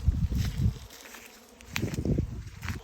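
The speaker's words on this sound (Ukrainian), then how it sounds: "А це вилітає рій." Honeybees from a swarm leaving near an apiary, a soft continuous buzzing hum with brief rustling bursts, moderately close and steady throughout, no talking.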